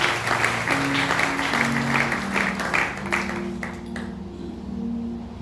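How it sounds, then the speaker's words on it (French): Congregation applauding and cheering to celebrate birthdays during a church service, a sustained wash of clapping with a steady musical tone underneath that eases off toward the end. "Est-ce qu'on peut les encourager par les acclamations?"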